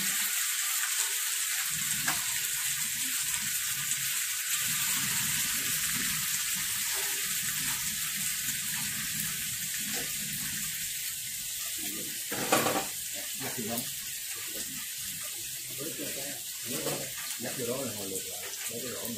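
Squirrel meat tossed into a hot pan with golden onion and garlic, sizzling steadily with a bright frying hiss, scraping stir strokes and a sharp clatter midway, while a voice talks over it.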